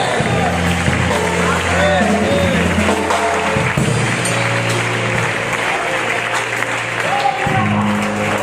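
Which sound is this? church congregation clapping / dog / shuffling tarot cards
church congregation clapping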